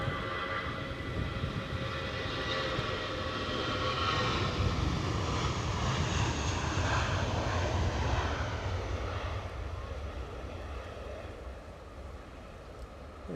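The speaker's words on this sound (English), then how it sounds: "So I think this is still the Eurowings departure to Stuttgart." A Eurowings airliner departs Edinburgh Airport, its engines a steady broadband roar at a moderate distance, swelling slightly in the middle and slowly easing off, with no voices.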